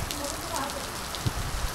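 A sudden monsoon thunderstorm downpour in Maharashtra drums steadily on surfaces nearby, a constant hiss of heavy rain with a few sharper drop impacts, while voices talk faintly underneath.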